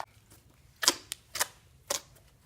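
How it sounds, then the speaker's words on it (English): Homemade borax slime being stretched and squished by hand, giving off three or four sharp, wet pops and snaps spaced a second or so apart, close up over a quiet room. "Look at the popping noise."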